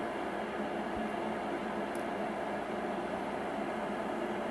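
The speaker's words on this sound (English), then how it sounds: "here's the kettle making noise, doing its thing" An electric kettle heats water for a hot-water durability test, giving a steady, even rushing hiss that stays at a constant level the whole time, with no voices.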